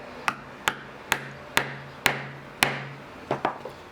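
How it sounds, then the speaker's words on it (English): An awl is tapped with a hammer through a leather strap and apron, giving eight sharp, evenly spaced knocks at close range, the last few coming quicker. "So just bear with me while I give that a little tap."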